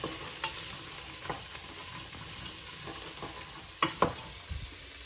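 Garlic sizzles in a hot pan, a steady close frying hiss with a few scraping stirs and utensil clinks toward the end, with no talking.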